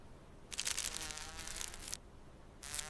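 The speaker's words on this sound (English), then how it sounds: "Just as I was about to open one, the weird buzz sound appeared again." A strange electronic buzzing effect sounds in one long sustained burst lasting over a second, then stops and returns briefly, loud and close against a quiet background with no talking.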